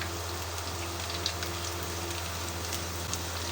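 Chopped garlic frying toward golden brown for restaurant-style egg fried rice, a faint, even crackling sizzle with tiny pops and no voices.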